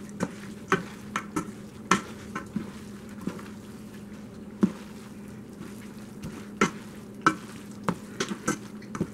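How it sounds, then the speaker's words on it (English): Spaghetti carbonara being tossed in a pan while the cheese melts, with soft sizzling under scattered clacks and scrapes of utensils against the pan, close and fairly quiet. "And keep tossing until the cheese melts"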